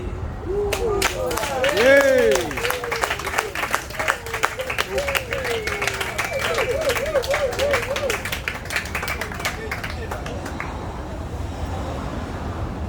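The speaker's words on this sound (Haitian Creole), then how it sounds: "Eh bien, on peut applaudir encore." Audience applause at a French slam poetry event, a dense round of clapping that swells early and then tapers off, with voices cheering and talking over it.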